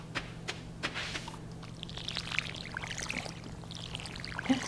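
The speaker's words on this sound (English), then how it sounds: "So I'll just water the plants." Watering crops in the farming video game Stardew Valley on a Riverlands Farm, heard as soft pouring and splashing water effects that repeat several times over a steady low background hum, with no talking.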